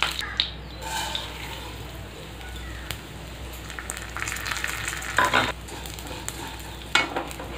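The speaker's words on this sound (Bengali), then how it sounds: "দেখুন আপনারা, 2 চামচ ঘি দিয়ে আমি সেমাইটা প্রথম ভেজে নিচ্ছি।" Vermicelli frying in two spoons of ghee in a pan, a soft steady sizzle with scraping stirs and occasional clinks of the spoon, close and fairly quiet.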